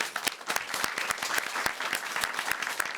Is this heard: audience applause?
yes